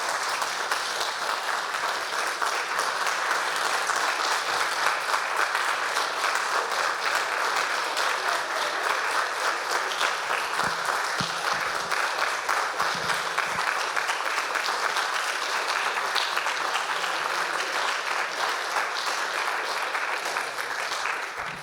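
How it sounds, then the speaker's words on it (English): An audience claps steadily for musicians at the end of an evening concert, dense sustained applause with no break, fairly loud and continuous. "Round of applause for all our fantastic musicians tonight"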